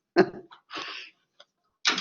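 A few short, breathy coughs close to the microphone, separated by brief silences, with a final cough at the end.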